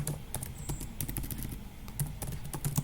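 Light, rapid tapping of keys on a computer keyboard, steady and close, with clustered clicks and brief pauses as text is entered into a Word document.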